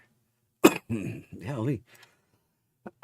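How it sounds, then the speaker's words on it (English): A person coughs in sharp bursts at the start and end, with a short exclamation and a throat sound between, close to the microphone and fairly loud. "makes me wheeze and then I start coughing."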